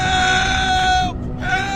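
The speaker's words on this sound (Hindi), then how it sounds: "तभी उस हॉस्पिटल के अंदर से चीखने चिल्लाने की आवाज आने लगती है।" Shrill, strained screams come from inside an old hospital in a scary-teacher horror cartoon story. Two loud, sustained cries are heard close up, separated by a brief gap, with no speech over them.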